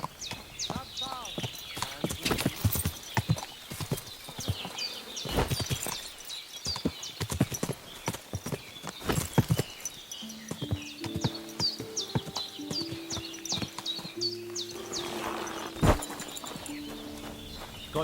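Rapid horse hoofbeats from the video game Kingdom Come: Deliverance 2, during a horse race, clatter in an uneven galloping rhythm, with a voice speaking over them and a brief tonal passage toward the end.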